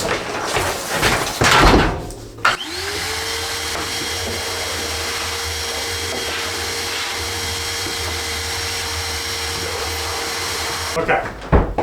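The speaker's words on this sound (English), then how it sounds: "Hold on, let me vacuum that out." A vacuum cleaner starts with a whine and runs steadily for several seconds at close range while cleaning out a spot on OSB walls in a mobile home rebuild, preceded by brief clattering and shutting off at the end.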